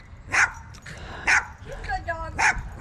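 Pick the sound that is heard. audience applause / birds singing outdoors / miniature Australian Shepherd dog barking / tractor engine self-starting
miniature Australian Shepherd dog barking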